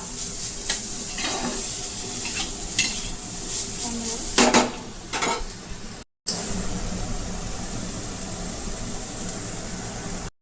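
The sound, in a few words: stirring momo filling in a pan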